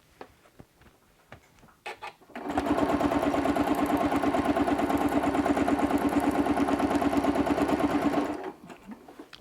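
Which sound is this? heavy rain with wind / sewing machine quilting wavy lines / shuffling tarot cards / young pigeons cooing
sewing machine quilting wavy lines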